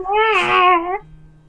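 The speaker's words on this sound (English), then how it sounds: "Sorry, I'm playing with the cat." A house cat gives one drawn-out, tonal meow lasting about a second, close and fairly loud, while being played with indoors, followed by quiet room sound.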